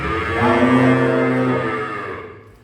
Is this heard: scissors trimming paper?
no